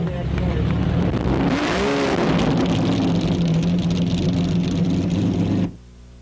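A 2-liter Colombo V12 mounted up front in a Ferrari 166 Spider Corsa runs loud and steady for about five and a half seconds, with a rising whine and a pass of revs partway through, then cuts off abruptly.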